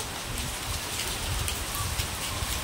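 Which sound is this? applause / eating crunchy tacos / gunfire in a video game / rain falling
rain falling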